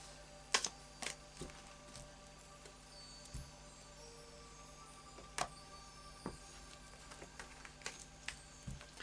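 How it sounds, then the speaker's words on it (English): Tarot of Dreams cards being shuffled by hand, heard as faint, scattered soft clicks and flicks close by against a quiet background, with no talking. "So final shuffle of the Tarot of Dreams."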